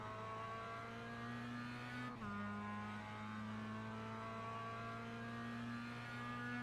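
MX5 Cup race car in the iRacing video game at Tsukuba, its engine droning steadily with a brief dip and pitch drop as it downshifts toward a very slow corner, then holding a lower, rough note.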